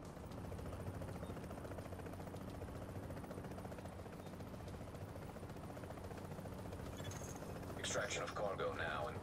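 Helicopter in the video game Tom Clancy's The Division: a steady rotor drone fills the scene at moderate level, with mechanical clatter rising near the end.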